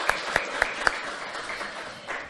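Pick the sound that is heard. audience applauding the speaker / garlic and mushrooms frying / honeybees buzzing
audience applauding the speaker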